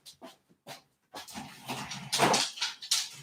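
A thirsty dog whines and whimpers, a few short soft whines at first, then a longer, louder run of plaintive whimpering close by.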